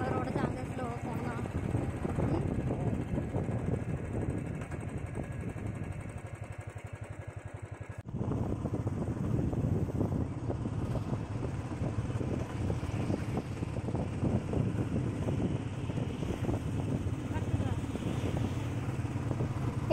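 A motorcycle ridden along a road on a monsoon ride near Pune, with a steady engine drone mixed with heavy wind buffeting on the microphone, continuous for the whole stretch with a brief dip partway through.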